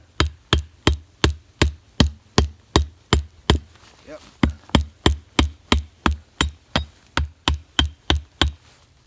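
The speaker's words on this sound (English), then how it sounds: "Use the hammer head a little bit." A tomahawk's hammer head drives a stake into frozen ground with about twenty sharp, close, evenly paced blows. There is a brief pause near the middle before the steady pounding resumes.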